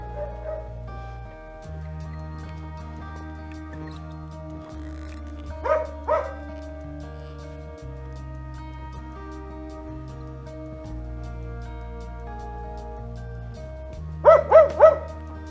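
A hunting dog barks out in the Komi countryside, a couple of sharp yelps in the middle and a quick burst of three near the end, heard over a steady low engine-like drone.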